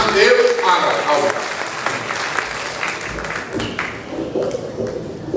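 Audience applause for a poet at a Hindi poetry recital, a sustained patter of clapping that is loudest at the start and gradually thins, with voices audible underneath.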